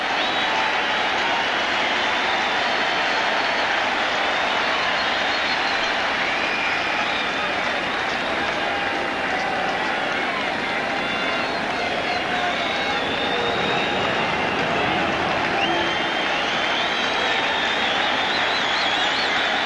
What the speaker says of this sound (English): Now the crowd trying to get back into it on their own.